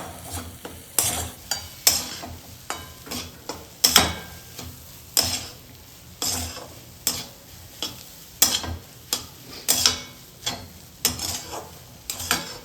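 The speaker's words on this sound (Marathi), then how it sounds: "चवीनुसार मीठ टाकून तुम्हाला मिक्स करून घ्यायचं आहे" Salt being stirred into green pea chutney, a steady run of close scraping and tapping strokes from a spoon against the pot, repeated rhythmically over several seconds.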